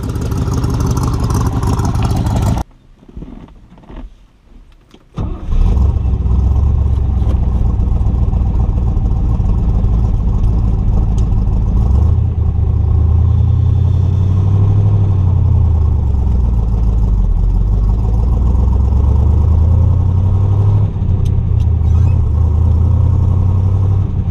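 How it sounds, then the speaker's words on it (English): A 1965 Chevrolet Corvette's 327 V8 engine idles steadily with a deep, smooth rumble, its pitch rising and falling slightly as it is blipped, after a brief drop-out near the start. "327's running nice and smooth, it's idling great."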